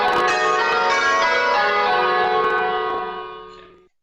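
Church bells ring a change with the treble leading, a rapid overlapping sequence of bright, resonant strikes that blend into a sustained ringing wash before fading away over the last second.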